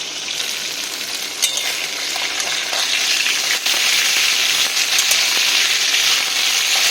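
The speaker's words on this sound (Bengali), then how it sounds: "বন্ধুরা, প্রথমবারের মাছটা ভাজা হচ্ছে" Nona (salted) fish frying in a pan, a steady, loud, dense sizzle that holds without a break, with a few faint clinks and crackles along the way.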